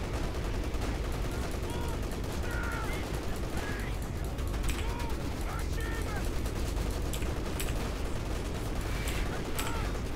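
Sustained machine-gun fire and scattered gunshots from a Company of Heroes match between USF and British forces and OKW forces, crackling steadily for about ten seconds under a dense battlefield din, with faint voices mixed in.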